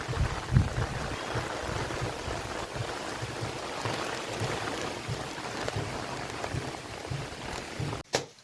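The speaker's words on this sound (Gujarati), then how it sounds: "પવન આવે છે એમ પવનને હારે વરસાદ વધે." Heavy monsoon rain driven by gusting wind lashes a village yard with trees, a broad steady downpour roar with a low rumble and a brief bump near the start, ending abruptly with a sharp click.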